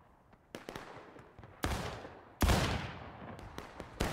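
Musket fire in War of Rights, the American Civil War game, rings out as scattered sharp cracks followed by two heavy volley blasts that echo and rumble off, loud and close, with more distant shots between.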